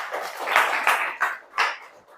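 A classroom of students clapping together in a short burst, uneven and slightly scattered. The claps swell in a few quick waves, then fade out within about two seconds.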